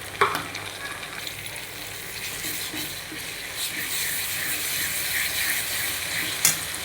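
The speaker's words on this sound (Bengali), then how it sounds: "লাল করে ভাজা হয়ে গেছে এবার আমি মশলাটা দিয়ে দিচ্ছি" Ground spices frying in a pan with onion, ginger and garlic make a moderate, continuous sizzle with occasional stirring scrapes and a sharp clink near the end.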